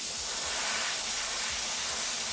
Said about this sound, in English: from a distance, just going to put a nice little light spray, half on our finger, half on our chain there